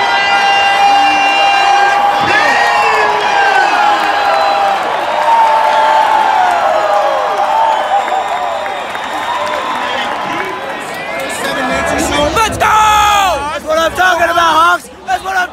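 A stadium crowd at the Holiday Bowl football game roars and cheers on its feet, a dense, loud, continuous wall of voices with rising swells, whistles and nearby shouting and chatter layered on top.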